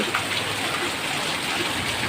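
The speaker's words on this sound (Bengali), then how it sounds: "প্রচণ্ড পরিমাণে বৃষ্টি হচ্ছে।" A constant roar of heavy rain drums down, loud and unbroken, with no one speaking.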